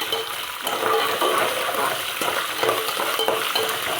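Green chillies fry in oil in a pan for rice rava upma, giving a close, steady sizzle with crackling spits and occasional stirring scrapes throughout.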